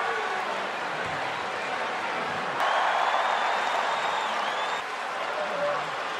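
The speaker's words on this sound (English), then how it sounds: "The crowd in Perth." A large Perth arena crowd roars at WWE Elimination Chamber, a steady wash of cheering that swells louder midway, with commentators talking over it.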